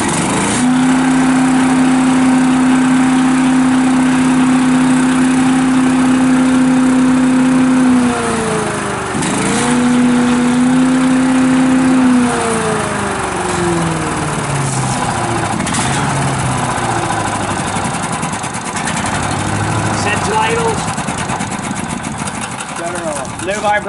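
The Honda engine on a Billy Goat DL1302H debris loader for leaf cleanup starts and settles into a loud, steady running drone, a held tone shifting briefly partway through, with no voices audible.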